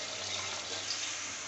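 Water is poured into a pan of chicken gravy while it cooks, giving a steady, soft rushing splash that lasts briefly with no talking.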